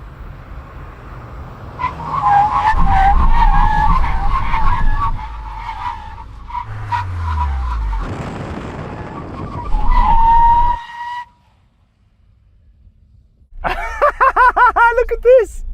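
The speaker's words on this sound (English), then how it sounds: "let's have a brake test from 100 kilometers an hour. When we reach the cones, full emergency stop." Several generations of Volkswagen GTI brake hard from 100 km/h in an emergency stop, with a loud nearby engine, long tire skid squeals and an engine note dropping away, then a brief quiet before another squeal.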